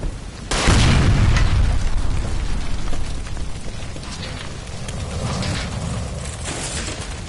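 A gas line blows up in the video game L.A. Noire, a sudden deep explosive boom that then rumbles and crackles on with debris and fire noise, loud at first and slowly settling.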